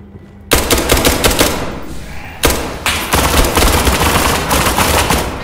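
Loud, close gunfire fills a video game shootout in rapid automatic bursts, with a short pause near the two-second mark before the firing resumes heavily and keeps going.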